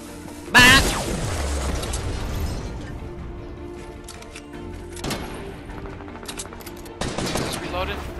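Gunfire in an online video game played over a laggy hotspot connection: a loud opening burst followed by a sustained, rattling stream of shots and later bursts, with game effects in the background.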